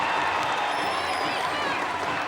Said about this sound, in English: Now the bench starts to stand and cheer.